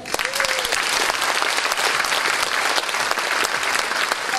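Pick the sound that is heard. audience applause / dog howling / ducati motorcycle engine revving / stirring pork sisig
audience applause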